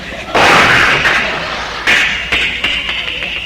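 A voice mimics a doorknob being wrenched off a front door, a loud burst of hissy grinding followed by several sharp cracks and scraping pops.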